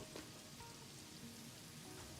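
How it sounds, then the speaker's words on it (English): Rain patters steadily on metal and concrete surfaces in the video game Satisfactory, a soft, dense hiss with scattered drop ticks and no other sounds. "if you're near machines, you can hear the rain pattering on metal"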